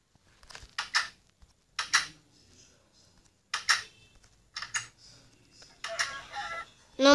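Chickens cluck in bursts inside a video game, short sharp bouts separated by pauses, with a louder final squawk and faint keyboard-like taps between them.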